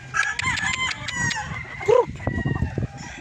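Chickens and a rooster on a farm give a close, loud crow with clucking around it, short and busy, with faint voices in the background.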